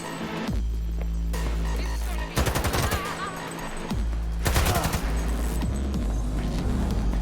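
A light machine gun fires in Cyberpunk 2077 in two sharp rapid bursts, each under a second long, over a steady low electrical hum and throbbing background.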